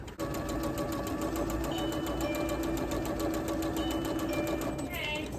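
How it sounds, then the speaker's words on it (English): A sewing machine runs a quilt seam in one steady, fast mechanical hum lasting several seconds, then stops near the end. "take them to the sewing machine, and you will sew a 1/4 inch down that seam"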